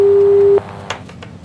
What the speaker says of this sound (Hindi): फोन डिस्कनेक्ट हुआ है, हम फिर से कोशिश कर रहे हैं